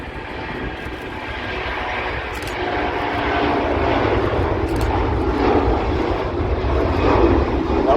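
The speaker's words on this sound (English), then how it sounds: "Boeing 737 MAX 9. Wasn't happy with the separation between himself and the Virgin Atlantic, and has decided to go round." A Boeing 737 MAX 9 goes around at Manchester Airport, its engine roar loud and steady and building gradually as it climbs away overhead, with no talk.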